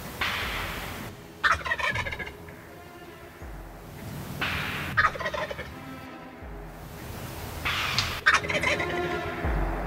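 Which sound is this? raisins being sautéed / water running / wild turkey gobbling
wild turkey gobbling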